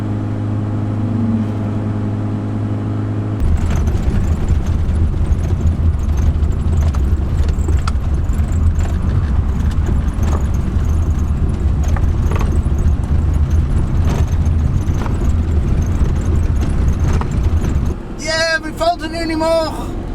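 Rental camper van engine pulling hard in second gear near 4000 RPM at about 60, a steady loud drone inside the cab with a voice talking over it.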